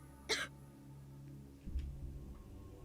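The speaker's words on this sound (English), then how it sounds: "Moeka gave a painful cough and spit up some stomach fluid mixed with blood" Moeka coughing painfully in the video game Steins;Gate 0, a single sharp, brief cough near the start followed by quieter low rumbling and a faint second catch in the throat.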